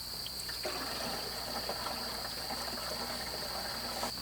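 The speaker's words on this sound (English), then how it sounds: "Now we're going to dump some water in and see if she holds." Water is poured into the radiator of an old Ford F250 truck that had been abandoned for 26 years. It makes a steady, close splashing trickle with a constant high whine in the background, and nobody speaks.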